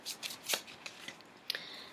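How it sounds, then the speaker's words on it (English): A deck of cards being shuffled in a few quick riffling bursts, close and fairly soft, with no talk. "So let's shuffle the cards this week"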